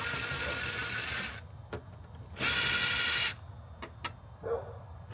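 A power drill backs a screw out during a custom rear widebody build for a Dodge Magnum conversion, running in two loud whirring bursts separated by short pauses and scattered clicks.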